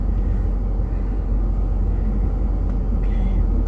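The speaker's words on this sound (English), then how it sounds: "most of the buses have gone past." School buses pass a house in a continuous low, broad rumble of heavy engines and tyres that swells slightly and stays fairly close, with no voices.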